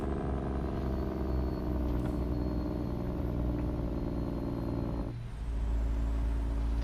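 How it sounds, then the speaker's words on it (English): Steady low drone of a truck engine in the American Truck Simulator video game, humming continuously, with a brief hiss of air release and a dip before the engine resumes. "The truck is not too loud,"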